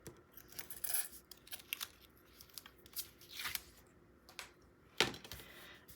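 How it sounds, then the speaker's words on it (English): Inner backing gets pulled off Scor tape in soft, close crinkling and peeling rustles, with a sharper tearing rip near the end. "I'm going to pull off the inner tape first."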